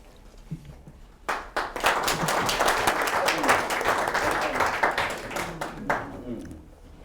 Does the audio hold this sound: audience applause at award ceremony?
yes